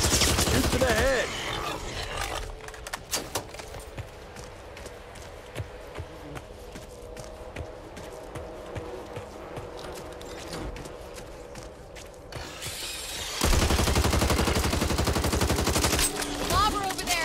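Gunfire erupts in the zombie shooter Back 4 Blood: rapid bursts and sharp single shots ring out loudly at the start and again near the end, with sparser, quieter shots scattered through the middle.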